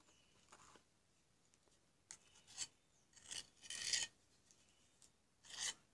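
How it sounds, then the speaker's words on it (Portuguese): Cement adhesive is spread onto a wall with a tool, making faint, intermittent rasping scrapes that come in short strokes, growing a little louder toward the end. "a gente vai passar cimento e cola aqui onde vai ser acoplado na parede"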